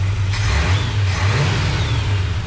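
The engine of a 1976 GMC truck revs loudly and close by after an overhaul, a steady mid-pitched rumble rising and falling slightly, with no talking over it.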